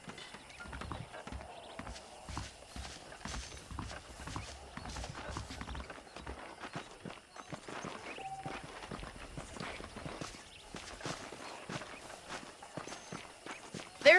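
Horse hooves clip-clopping at a walk in Red Dead Redemption Remastered, a steady close rhythm of distinct hoof strikes over quiet ambient background, with no voices.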